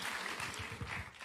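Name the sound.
wedding guests applauding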